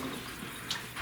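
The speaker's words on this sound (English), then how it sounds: "I'll just go ahead and rinse out whatever that might have broke free" Water splashing and trickling as a muzzleloader barrel is rinsed out, a soft steady wash with a brief brighter splash near the end, close and quiet.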